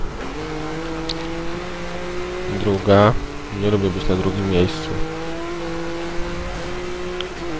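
Racing car engines in Need for Speed Most Wanted (2012) during a race against an Aston Martin DB9: a steady droning engine with bursts of revving and gear shifts, while someone talks over it.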